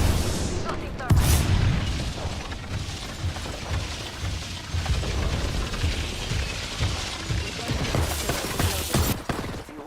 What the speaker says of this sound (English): Tossing thermite.